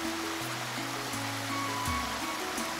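Gaganachukki waterfall in full spate crashing down into foaming spray, a steady, loud, broadband roar of falling water that fills the scene without pause, with low hum-like tones running beneath.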